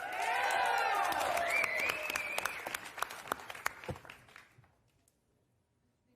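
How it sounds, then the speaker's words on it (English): Applause from an audience at a science fiction awards panel. It starts as a fairly full burst with some voices, then thins to scattered individual claps and fades into near silence. "Pity clapping is still clapping"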